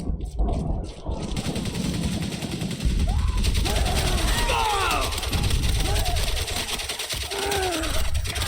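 Sustained rapid gunfire from German soldiers in the World War I video game Valiant Hearts, near and loud, with bursts of machine-gun fire and scattered shots under constant battle noise.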